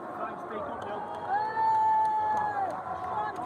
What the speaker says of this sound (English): Ladies and gentlemen, give a applause for Dylan.